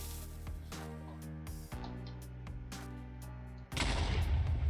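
Game explosives detonating in a Lord of the Rings Minecraft mod, a thudding blast followed by sustained rumbling booms, with a sharp, louder burst near the end.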